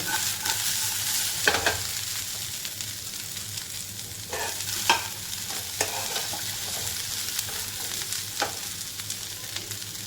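Okra frying in a pan for a simple dry bhaji made without onion or spices, with a steady sizzle broken by a few louder spatula scrapes and stirs at intervals; no voices.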